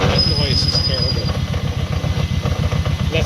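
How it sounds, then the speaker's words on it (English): The rear brake of a Kawasaki Vaquero motorcycle gives a thin, high squeal for about a second. A loud, pulsing engine beats rhythmically close by underneath. "That squeaking was my rear brake."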